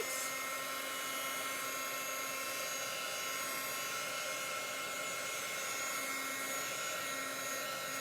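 A hair dryer drying gray chalk paste on a craft surface blows with a loud, steady, close whooshing whir that holds unbroken throughout, with no talking.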